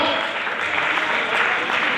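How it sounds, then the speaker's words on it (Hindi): Audience applause at a pre-launch business event in Delhi NCR, a dense, loud wash of clapping filling the whole moment, with voices mixed in. "एक बार मैं चाहूंगा खड़े होकर तालियां जोरदार करके होनी चाहिए"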